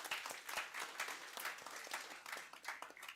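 An audience at a college event claps for faculty members, a fairly faint, uneven patter of hands from a smallish crowd, rising and falling in loose bursts.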